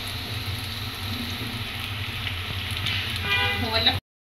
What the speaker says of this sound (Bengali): এখন আমি এগুলোকে ভেজে নেব।